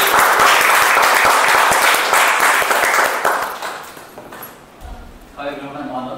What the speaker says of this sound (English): So a huge round of applause to all of you guys actually.